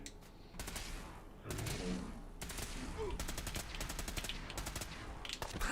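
Bursts of automatic gunfire from a Fallout 4 firefight ring out in rapid rattling volleys separated by short pauses, fairly close, with faint game sounds between shots.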